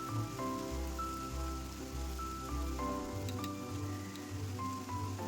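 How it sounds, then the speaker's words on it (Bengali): Vegetables fry lightly in oil in a pan, giving a steady soft sizzling hiss throughout, heard under background music. "সমস্ত উপকরণ খুব ভালো করে তেলের সাথে মিশিয়ে নিয়ে হালকা করে ভেজে নেব"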